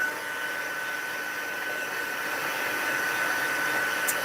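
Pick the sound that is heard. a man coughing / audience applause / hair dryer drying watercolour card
hair dryer drying watercolour card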